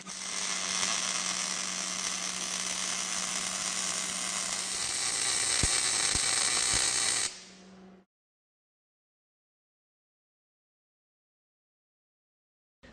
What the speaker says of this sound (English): You make one straight weld.